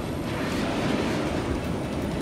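Cargo plane engines in the video game Just Cause 3 give a steady, loud, broadband roar with a low rumble that holds constant throughout, with no voices.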